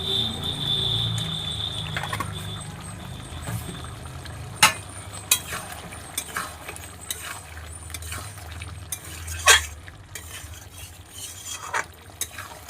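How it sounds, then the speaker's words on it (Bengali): Chicken and spice powders (turmeric, chili, coriander, cumin) stir-fried in a pan, with a steady low sizzle, scraping spoon strokes and a few sharp clinks of utensil against the pan, close and alone. "হলুদ গুঁড়ো, লঙ্কা গুঁড়ো, ধনিয়া গুঁড়ো, জিরে গুঁড়ো সব একসঙ্গে এখন দিয়ে ভালো করে কষিয়ে নিতে হবে।"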